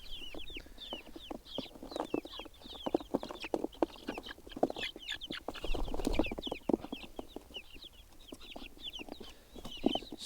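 Silver Grey Dorking hens cluck steadily in a henhouse, with dense overlapping clucks and short calls from several birds close by, fairly loud and continuous throughout.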